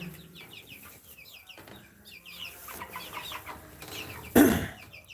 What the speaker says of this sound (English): I'll show you guys the chicks.